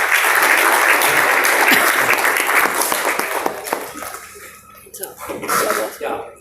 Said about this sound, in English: Let's have a round of applause for him as well.